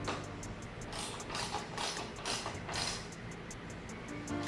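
Ratchet clicking steadily while snugging the windscreen bolts of a Klock Werks 11-inch Flare windscreen on a motorcycle, a quick run of close, regular mechanical ticks held at an even moderate level.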